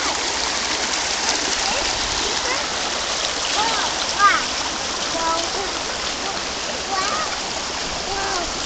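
Floodwater rushes over a washed-out road in a broad, steady roar, loud and continuous, with faint voices and a brief splash partway through.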